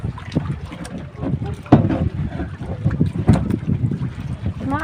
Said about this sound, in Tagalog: Nilalabas ang bangka.